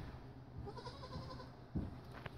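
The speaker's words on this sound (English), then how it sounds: "It's a goat. It's a little goat." A young goat bleats faintly beside a low background hum, with one short clearer thud or cry near the end.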